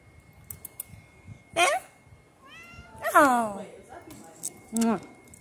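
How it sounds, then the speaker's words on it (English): A cat meows several times, short rising and falling calls with pauses between, close by, with some soft background noise. "Meow. Oh. And then my sweet kitty."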